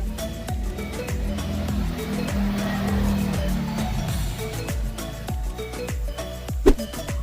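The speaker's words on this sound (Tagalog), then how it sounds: "ang ingay, marami pong nagdadaanan ng mga sasakyan, mga motorsiklo" Cars and motorcycles pass one after another nearby, their engines rising and falling in a busy, continuous stream of traffic noise.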